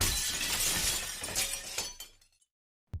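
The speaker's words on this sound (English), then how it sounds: "The sound of shattering glass snapped the paralysis." A loud crash of window glass shattering as something is hurled through it, with debris scattering for about two seconds before falling silent; one sharp clink follows.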